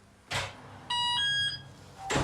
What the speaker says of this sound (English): Little beep.